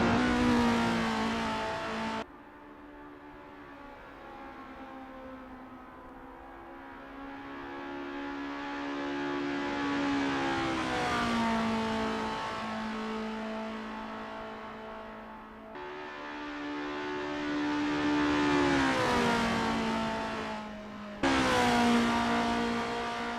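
Race cars in Assetto Corsa warming up on the Estonia-25 circuit, a loud engine droning as it revs up and down in long sweeps, cutting off sharply at gear changes.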